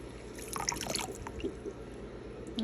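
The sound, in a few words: water poured onto rice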